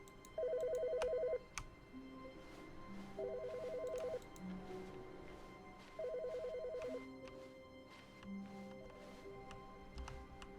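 A telephone in the video game The Stanley Parable rings three times at an even pace, each electronic trill about a second long, separated by quieter gaps with faint background tones.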